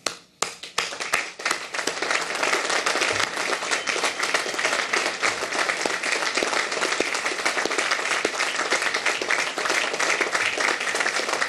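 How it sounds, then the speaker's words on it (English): West Point graduates at their military academy commencement stand and applaud their supporters, a sustained, dense wave of clapping from a large crowd that starts with scattered claps and quickly fills in. "an opportunity to acknowledge the contributions of your team of great supporters by standing and applauding them"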